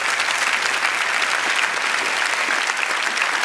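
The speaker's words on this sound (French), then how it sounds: "eh ben on peut applaudir Alex, s'il vous plaît, vraiment." An audience at a magic show applauds a volunteer called up on stage, a dense, steady wash of clapping filling the room from start to finish with no talk.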